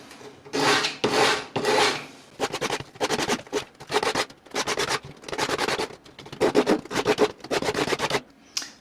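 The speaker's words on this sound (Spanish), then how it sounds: "voy haciendo girar el anillo en mis dedos para tratar de lijar la superficie exterior de manera homogénea" Steady hand sanding of a wooden ring turned in the fingers, rhythmic rasping strokes in quick repeated bursts with brief pauses between, close and fairly loud, no voices.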